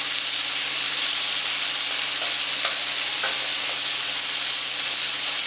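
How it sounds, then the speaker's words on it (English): Broccoli simmering in a stir-fry pan with pan sauce gives a steady close sizzle and hiss, with a few faint clicks of stirring and no voices. "we're going to add our broccoli and simmer that some"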